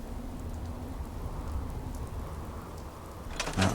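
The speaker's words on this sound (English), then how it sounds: "Build mode back in to get rid of the rain." Steady rain in Fallout 4 patters in a constant low hiss throughout, with a louder crackle near the end.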